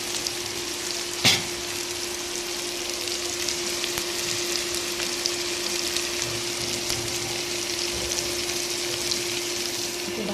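Mixed vegetables frying in a pan for a black taro leaf dish, giving a steady close sizzle throughout with one brief louder crackle early on and no talking.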